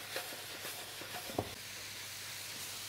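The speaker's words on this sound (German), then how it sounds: "Hitze hoch und kräftig wokken bzw." Butter and kale sizzle over high heat in a wok, a steady hiss of frying with a few light clacks of stirring, close and fairly quiet.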